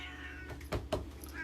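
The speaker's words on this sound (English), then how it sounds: "I got a different cat in here now." A cat meows indoors, two short close calls with a brief gap, over a low background hum and no talking.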